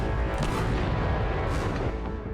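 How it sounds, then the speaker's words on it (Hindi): Explosions in the Ukrainian city of Dnipro, heard as a sustained, dense low rumble with scattered booming thuds and crackling throughout, loud and continuous with no voices. "यूक्रेन के नीप्रो शहर में कई धमाके हुए।"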